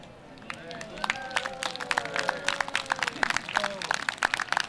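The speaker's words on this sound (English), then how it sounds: "Let's give her another round of applause." An audience at a Muscogee community radio event claps, starting with scattered hand claps that quickly swell into dense, close applause, with voices calling and cheering over it.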